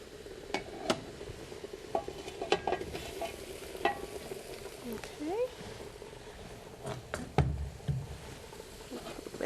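Root vegetables (carrots, parsnips, red skin potatoes and leeks) dropped into a braising pot roast, with soft clatters and knocks over a steady sizzle and simmer, close up with no talk.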